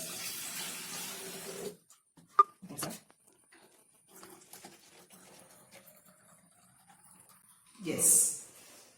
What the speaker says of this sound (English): So we can pour some more water up to the marking level.